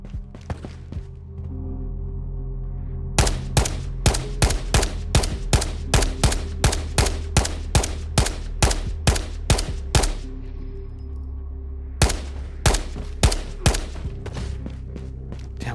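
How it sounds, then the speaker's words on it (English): Rapid bursts of gunfire from an unfamiliar gun in the video game Ghosts of Tabor, a long regular string of loud, close sharp shots, a pause, then a few more cracks over a low rumbling background. "Sounds like an interesting gun"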